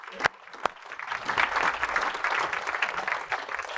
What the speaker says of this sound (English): how about a big round of applause for Ken?